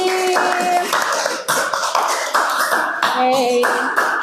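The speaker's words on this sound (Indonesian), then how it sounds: "Beri tepuk tangan yang lebih meriah lagi." Schoolchildren clapping in an elementary classroom, a dense burst of hand claps lasting several seconds, with children's voices and sung tones mixed in over it.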